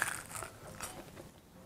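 A crispy fried potato and cheese stick is bitten into with a loud, sharp crunch, followed by a few fainter crackling chews up close and no talking.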